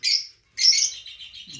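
Budgerigars chirping at feeding time on a small farm, two bright high chirping bursts close by with quieter twittering after.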